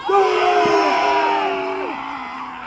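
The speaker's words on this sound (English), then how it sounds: "you've got an entire rank of people cheering for you" Crowd at a Danish Constitution Day event letting out a loud, sustained collective cheer and yell that starts strong and slowly tapers off, voices blending into one drawn-out roar.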